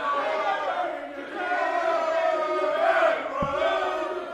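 A darts finals-night crowd roars and chants together in a large hall, a dense sustained wash of voices swelling and dipping, with one brief sharp knock partway through.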